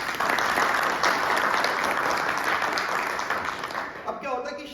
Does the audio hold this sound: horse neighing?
no